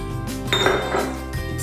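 Cake batter is whisked in a bowl, with quick metallic clinks and a scraping swish of the whisk against the bowl, close and continuous over a short moment.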